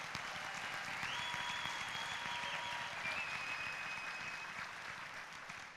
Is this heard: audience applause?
yes